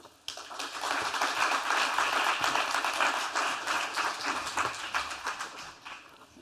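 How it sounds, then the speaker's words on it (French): An audience breaks into sustained applause welcoming a university president at a formal ceremony, a dense wash of many hands clapping that swells quickly and stays loud before gradually thinning toward the end. "Sous vos applaudissements, Vincent Thomas"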